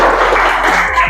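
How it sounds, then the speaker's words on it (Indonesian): A class of students applauding a classmate in a classroom, a loud, brief, dense burst of clapping heard up close. "Tepuk tangan untuk temannya"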